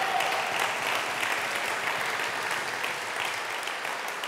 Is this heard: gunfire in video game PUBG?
no